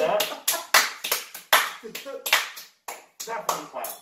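Hands clapping in a quick, uneven run of sharp claps, about a dozen close, crisp bursts with short gaps between them.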